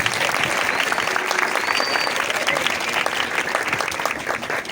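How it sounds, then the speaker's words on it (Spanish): A church congregation gives loud applause, sustained dense clapping that fills the room at steady volume and tapers slightly toward the end, with faint voices mixed in. "Denle fuertes aplausos"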